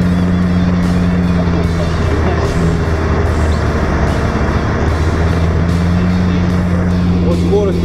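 An off-road UAZ Hunter or Mercedes G-Class crawls in low gear, its engine a loud, steady drone with a humming whine that fades and returns, over bumpy rumbling from the ground.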